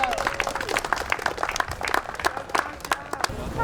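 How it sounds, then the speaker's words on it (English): Audience clapping at a community toy giveaway, a dense run of handclaps lasting the whole stretch, moderately close with murmuring underneath. "round of applause for all of you guys for being here today"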